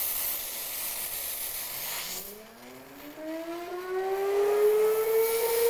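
A steam cleaner's vacuum extraction runs as a steady broadband hiss and whoosh, with a rising motor whine that climbs in pitch as it spools up and stays loud and close.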